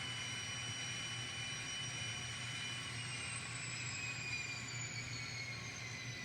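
An N scale model train locomotive throttles up in a steady, faint electric whine with slowly gliding high tones over a low hum, continuous and without talk.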